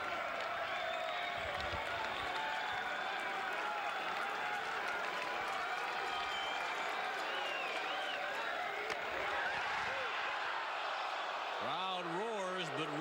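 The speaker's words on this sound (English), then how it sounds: "Crowd roars" A baseball stadium crowd at a 1996 Red Sox at Tigers game roars in a loud, sustained swell of cheering and clapping. A broadcaster's voice rises near the end.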